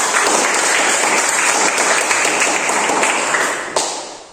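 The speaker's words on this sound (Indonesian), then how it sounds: "Tepuk tangan dulu" An audience applauds at a 2023 IAKN Ambon student performance assessment, a loud, thick wash of clapping from many hands that stays full and steady, then drops away abruptly near the end.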